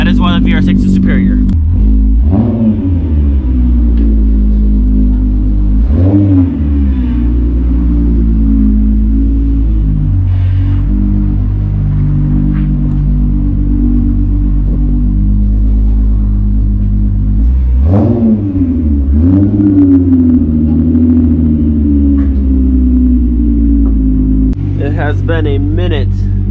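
A Volkswagen MK3 Jetta VR6 engine idling with a deep, loud rumble and revving sharply several times, each rev rising and falling back to idle, close up.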